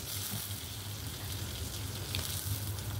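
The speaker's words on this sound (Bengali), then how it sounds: "2টো বড় সাইজের পেঁয়াজ কুচি করে রেখেছিলাম, মিহি কুচি করে রেখেছিলাম, সেগুলো ভাজতে দিয়ে দিলাম" Two large onions, finely chopped, fry in a pan for North Indian style ghugni, giving a steady, continuous sizzle and crackle close up, with no speech.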